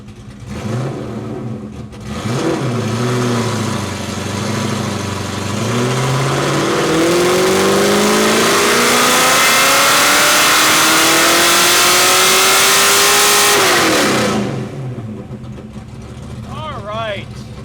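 A Ford Mustang Foxbody engine on a dyno winds up in a loud wide-open pull, its pitch rising steadily for about twelve seconds before cutting back to idle, with no voices over it.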